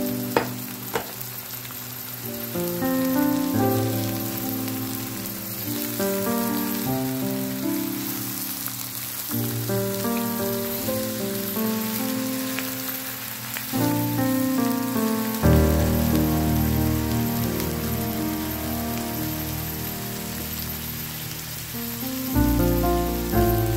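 Two to four pounds of cleaned shrimp sizzle in a hot pan with a steady, rain-like crackle while being stirred, the frying continuous and fairly loud throughout, with background music and no talking.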